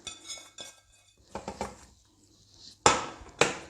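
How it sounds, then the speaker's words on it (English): Roughly chopped onion tipped into a sturdy slow cooker crock pot, giving a few scattered soft clatters followed by two sharp knocks of pieces and utensil against the ceramic pot, with no talking. "I've chopped an onion up roughly, and I put that in"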